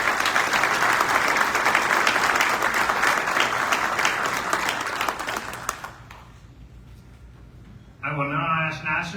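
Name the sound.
audience applause at assembly session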